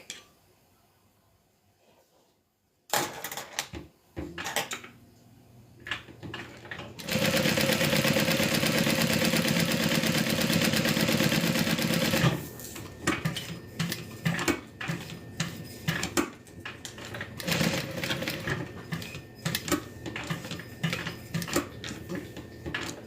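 A sewing machine stitches a crossbody bag in a steady, loud mechanical whir of several seconds, then shorter bursts of stitching with clicks and handling sounds in between.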